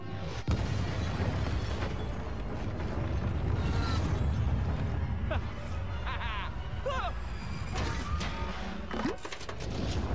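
Busy Lego Star Wars: The Skywalker Saga game audio with booming blasts and crackling bursts over constant mechanical rumble, while voices chatter underneath.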